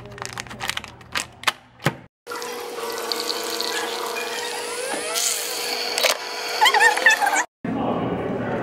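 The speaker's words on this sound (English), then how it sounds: "Okay, I've poured it into here." French roast coffee pours into a mug in a steady, close trickle lasting several seconds, after a few sharp knocks and clatters, then stops abruptly before a brief final pour.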